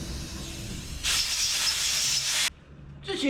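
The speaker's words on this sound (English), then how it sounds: "Just gonna spray these things down and blow them clean with some air." Compressed air blows spark plugs clean after spraying during work on an abandoned 1963 International Loadstar truck. A loud, steady hissing blast lasts about a second and a half, then cuts off, over a constant background hum.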